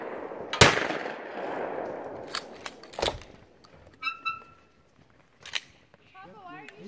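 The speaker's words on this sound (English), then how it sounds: "Papa, why are you shooting?" Shotgun blasts at a skeet range, a loud sharp report early on followed by several fainter shots spaced apart, with voices talking between them.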